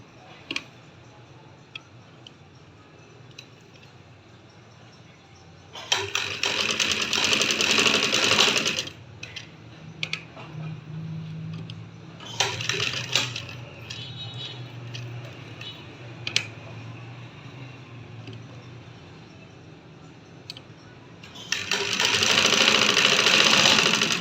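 A sewing machine stitches a one-year-old baby girl's kurti, running in three loud, rapid bursts of a few seconds each, separated by quieter pauses with occasional clicks.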